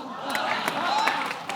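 A studio audience on a comedy talk show claps and cheers for Hazel, a dense steady patter of applause with crowd noise and a voice speaking over it.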